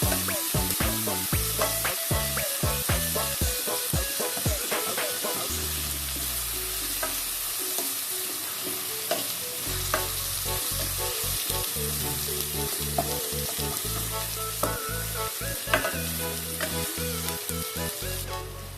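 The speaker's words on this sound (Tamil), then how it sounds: "வெங்காயம் நல்லா வதங்கட்டும், லைட்டாக வதங்கட்டும்." Onions sautéing in a pan for paneer butter masala, a continuous close sizzle broken by frequent clattering stirs and scrapes of a spoon, with short pauses between bursts of stirring.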